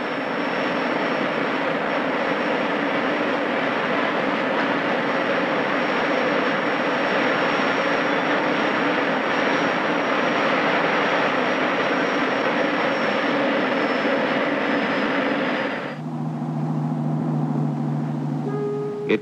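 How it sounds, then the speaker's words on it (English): A 1959-era jet aircraft engine roars in a steady, loud, continuous whine, then cuts to a lower drone in the final seconds, with no talking. "it's the simplest aircraft engine ever devised"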